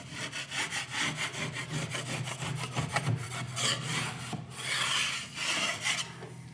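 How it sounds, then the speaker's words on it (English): Rhythmic, rasping scrapes as a blade knocks bumps off a fresh drywall patch, a quick run of close, steady strokes that pause briefly and then resume. "Now we're just going to scrape the bumps"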